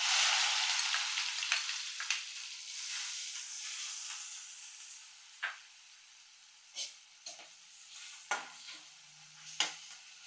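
Finely chopped onions frying and being stirred in a pan for a mushroom curry, a steady broadband sizzle that fades gradually, with a few sharp clinks and scrapes of a utensil against the pan near the end.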